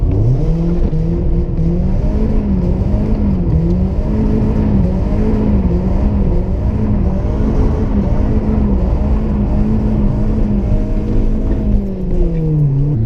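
A slammed BMW E36 318is drifting on a street in a sustained four-wheel slide. The engine drones loud and close throughout, its pitch wavering up and down steadily, with no talk.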